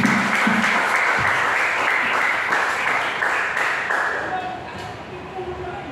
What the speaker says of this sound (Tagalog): Ganyan po ba kalakas ang palakpak kay El Shaddai?